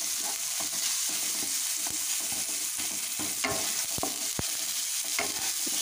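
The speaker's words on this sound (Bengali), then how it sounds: "দেওয়ার পর এটাকে আরও একটু ভেজে নিচ্ছি।" Onion and tomato frying in a pan with turmeric and Kashmiri chili powder, a steady close sizzle with scattered stirring scrapes and taps, no voices.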